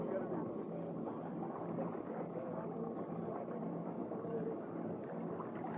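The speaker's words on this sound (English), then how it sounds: "the sound of the idling engine" A low, steady boat engine hum idles continuously in a Baja California lagoon during whale watching, with a soft wash of water and wind around it and no voices.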